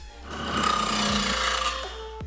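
Hand work with a rasp or similar tool takes excess wood off a handmade wooden wand, heard as a close scraping rub across the span, with a few brief tonal scrapes and no talk.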